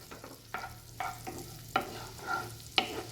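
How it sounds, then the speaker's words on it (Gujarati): Chopped garlic sautéing in butter and oil in a kadai, with a steady sizzle and repeated scraping stirs of a spoon against the pan, close and fairly quiet with no voices. "તો લસણને આપણે અહીંયા એકદમ સરસ રીતે સાંતળી લઈશું।"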